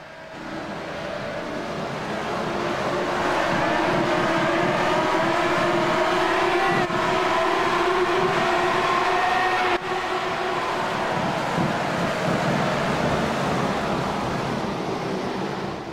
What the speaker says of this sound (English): Now we're ready to go racing for 20 laps. Engine revs will rise.